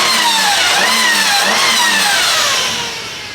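A faulty engine in a car bought at a dealer auction runs steadily and loud, with rough mid-range drone and whining tones that rise and fall as it revs slightly, fading a little at the end with no talk.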